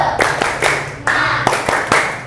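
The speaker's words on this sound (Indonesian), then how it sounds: "Tepuk semangat." A classroom of pupils does the 'tepuk semangat' spirit clap, a loud nearby rhythm of sharp group claps in short patterned bursts with brief pauses between.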